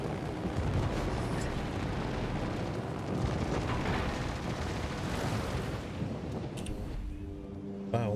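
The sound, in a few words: torpedo hits exploding in a naval video game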